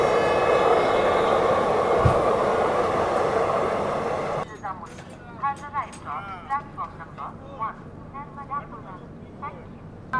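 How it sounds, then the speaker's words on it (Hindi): The Ballia Dadar Express rolling past on the line: a loud, broad roar gives way to rhythmic clacks as the wheels run over the rail joints, heard from close by. "और ये मेरे ख्याल से बलिया दादर एक्सप्रेस है"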